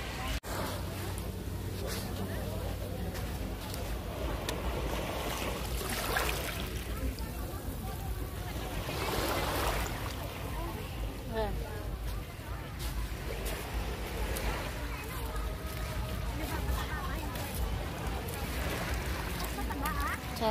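Surf rolls in at Golden Beach in Tuen Mun, Hong Kong, a steady wash of waves with swells rising and falling, heard under a few voices chatting.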